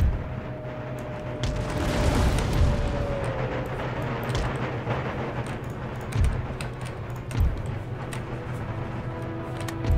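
Rocket fire in an Empire Total War battle lands as a dense, sustained rumble of booms and crackling blasts, loudest early, then several sharper distant impacts over continuous battlefield noise.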